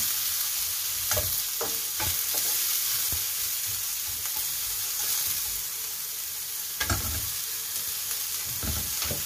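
Fatty pieces of pork fry in a little oil for dinuguan, a steady close sizzle broken by several scraping stirs and clacks of a utensil against the pan.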